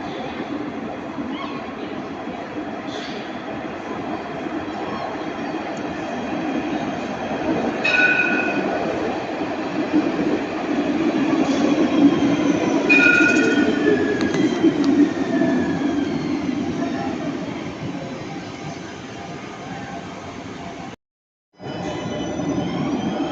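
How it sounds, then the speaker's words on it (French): A line 3 tram in Nice rumbles past on rails, a long steady roll that swells midway, with occasional metallic squeals and clicks and a brief cut near the end. "Un autre tram de la ligne 3, là, cette fois-ci en direction du port."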